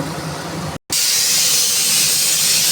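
Water poured onto frying meat in a hot pan erupts into a loud, broad hiss and sizzle that continues steadily after a brief gap, close and without any voices.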